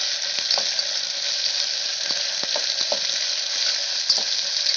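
Ginger-garlic paste frying in a pan for palak pulao, giving a loud, steady hissing sizzle with scattered soft taps and scrapes of stirring, close up and without talk.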